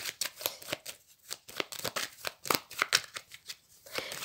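Tarot cards are cut and shuffled by hand, giving a quick run of crisp riffles and flicks close up, steady throughout and with no talking.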